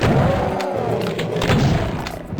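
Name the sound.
super shotgun firing in the video game Doom II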